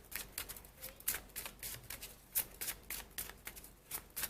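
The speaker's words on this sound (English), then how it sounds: "I'm going to pull you another 3 extra cards just to see if there are additional messages for you for June 2020" Tarot cards are shuffled and handled up close, with soft rapid riffling bursts and papery flicks repeating at an uneven rhythm, quiet and without speech.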